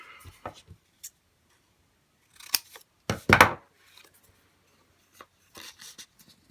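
Scissors snip paper during a sketching craft process, a few quiet separate cuts followed by a louder crisp run of snipping and some faint rustles, close up with no talking.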